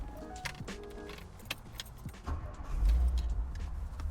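A 1963 Ford Galaxie is started with its key: keys jangle and click in the ignition, then the engine cranks and catches, settling into a low, steady idle by the end.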